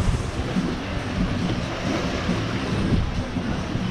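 Sea waves rush and slosh around a sailing boat under mainsail on a windy passage, a continuous churning roar with buffeting wind noise.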